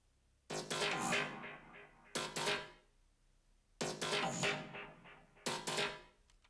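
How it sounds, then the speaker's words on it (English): Four bursts of layered synthesizer sound, broad and bright, separated by short pauses; the sound is played alone and fairly quiet. "So the first 3 synths together sound like this."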